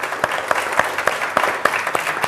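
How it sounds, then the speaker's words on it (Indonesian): An audience claps steadily at an Indonesian arts and culture gathering, a dense, even patter of many hands heard close and alone. "Tepuk tangan."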